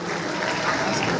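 Dense audience applause welcoming an award recipient at a community talent felicitation ceremony, a loud continuous crowd clapping that fills the whole moment, with a voice faintly audible beneath.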